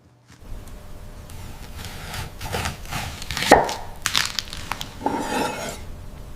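A large desert-grown watermelon being cut open, with a knife crunching and the rind cracking in several close, uneven bursts over a steady background hiss.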